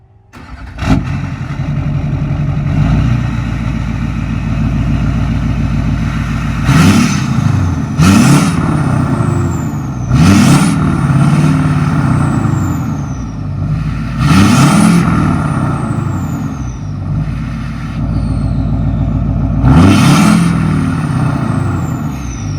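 A Duramax LBZ diesel truck engine cranks and fires, then idles with a deep rumble, revved several times in loud surges that fall back to idle.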